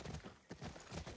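In The Last of Us Part II, a horse gallops with rapid, rhythmic hoofbeats that thud in quick clusters, loud and close, with a brief lull midway before the pounding gait resumes.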